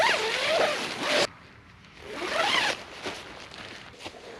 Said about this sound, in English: So I'm going to go ahead and zip the whole thing up so we can take a look at its true shape.